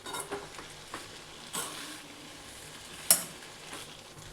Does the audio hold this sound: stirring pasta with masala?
yes